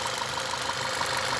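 A 2014 Audi 1.8 TFSI petrol engine with 78k miles, freshly serviced, idles steadily with a smooth, even hum and a faint regular ticking pulse, close by and alone.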